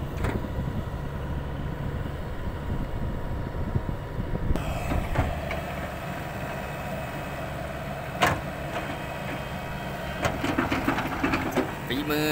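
A macro excavator's engine drones steadily as it works a rice paddy during field dredging, with a constant low rumble, occasional clanks and metallic knocks from the bucket and tracks, and louder mechanical clatter toward the end.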